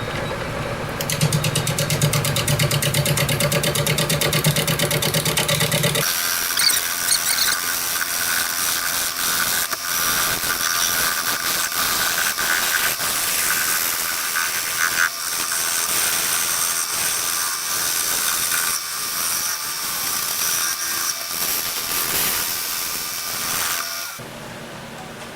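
A wood lathe turns a maple vase blank at about 500 RPM with a steady mechanical whir and hum, loud and close, shifting to a lower, rougher tone after a few seconds and running on continuously.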